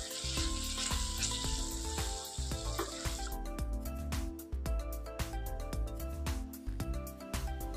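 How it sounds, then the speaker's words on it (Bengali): Masala for a Gondhoraj lime egg curry stir-fries in a pan, a bright sizzle under frequent rhythmic scraping and knocking of a spatula against the pan, close and steady, with no talking. "এবার আর কয়েক সেকেন্ড আমরা ভালো করে কষিয়ে নিয়ে দিয়ে দেব পরিমাণ মতো জল।"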